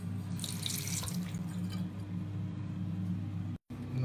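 Water rushes steadily from a kitchen faucet rigged as a prank with a coin taped over the outlet, a continuous close hiss and splash that drops out briefly near the end.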